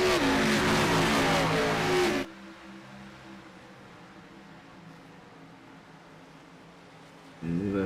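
Xfinity race cars roar past at Iowa Speedway in a sim racing game, loud at the start and end and dropping to a quieter engine hum in between, with a commentator talking over them.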